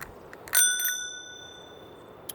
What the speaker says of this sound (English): I also have a little bell